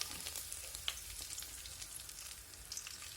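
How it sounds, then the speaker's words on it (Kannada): Mustard seeds, cumin and curry leaves sizzle and crackle in hot oil in a pan, a close, steady frying hiss with small pops scattered through it. "ಎಣ್ಣೆ ಕಾದಿದೆ, ಸಾಸಿವೆ ಹಾಕಿದ್ದೀನಿ. ಚಿಟ ಅಂದಮೇಲೆ ಹಾಕ್ತೀನಿ ಸಾಸಿವೆ, ಜೀರಿಗೆ, ಕರಿಬೇವಿನ ಸೊಪ್ಪು"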